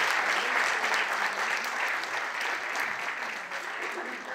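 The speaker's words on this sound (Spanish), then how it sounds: "¿Le damos un aplauso a Jesús?" Audience applause fills the whole stretch, steady and dense from many hands clapping at once, loud and close throughout with no voices breaking through.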